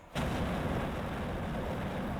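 Hellhound tank firing its Inferno cannon in a Warhammer 40K strategy video game: a sudden loud roaring blast that settles into a sustained, dense rushing burn of flame, steady and alone without talk.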